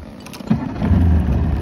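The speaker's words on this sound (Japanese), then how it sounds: "エンジンはまだかかるんですよね。" A boat engine starting up offshore after running out of gasoline, a brief cranking burst followed by a steady low rumble as it catches and keeps running close by.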